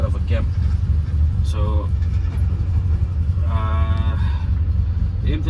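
A BMW E30 333i with an M30 engine, a cam and a loud exhaust, idling with a low, lumpy rumble that runs steadily throughout while someone talks over it.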